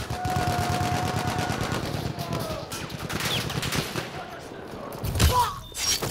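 Rapid, steady machine gun bursts rattle through a Battlefield 1 firefight, joined by scattered shots and explosions, with in-game voices calling out over the racket.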